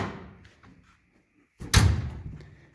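A toolbox lid in the bed of a 2020 Polaris Ranger NorthStar thumps open with a loud, sudden clunk after a near-silent pause, ringing briefly before fading.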